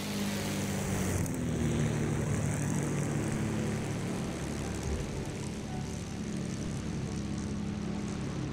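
Steady, continuous drone of a P-51D Mustang propeller engine in Flight Simulator during touch-and-go landing practice, a loud unbroken roar that shifts slightly in pitch partway through, with no talk.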